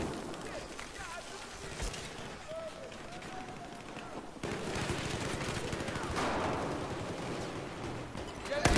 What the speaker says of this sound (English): That's how you use a shotgun, guys.